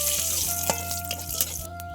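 Bay leaves and torn chillies sizzling in hot oil in a wok, a steady close crackle with a few sharper pops, for a winter bottle gourd and prawn dish.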